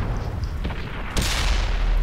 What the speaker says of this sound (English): really decent little gun battle on the hill